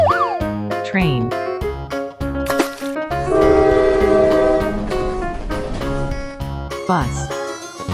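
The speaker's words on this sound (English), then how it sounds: "Train." A train horn sounds as a sustained, loud blast for a couple of seconds in the middle, set against a bouncy children's music track with short cartoonish effects before and after.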